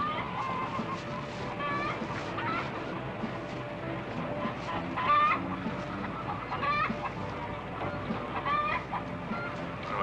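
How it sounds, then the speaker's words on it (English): Chickens cluck and a rooster calls repeatedly in a busy, continuous farmyard chorus, with scattered sharper squawks over a steady background of fowl noise. "Chicken."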